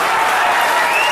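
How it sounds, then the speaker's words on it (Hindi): An audience applauding at a Hindi poetry performance: dense, loud, continuous clapping from a large crowd, heard alone. "तालियां आपने थोड़ी पहली बजा दी"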